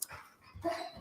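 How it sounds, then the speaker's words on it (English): A pet dog barking and yipping indoors in a couple of short, fairly faint bursts heard at home. "I'm sorry, that's my dog."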